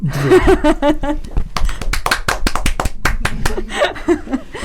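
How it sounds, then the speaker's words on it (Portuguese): An audience claps in a quick, uneven patter of sharp hand slaps after a told story, close and fairly loud, with talking and voices mixed in at the start. "Podemos bater palmas."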